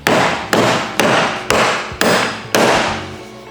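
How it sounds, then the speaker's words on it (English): A hammer taps a wheel bearing square into a wheel hub, six sharp metallic strikes spaced about half a second apart, each ringing and fading before the next, close and loud with no talk. "Make sure that the bearing is square to the hub. Give it a couple light taps to start."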